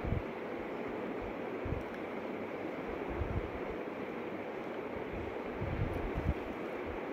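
A steady, continuous sizzling hiss of spices tempering in hot oil for rasam, close and even throughout with no talking.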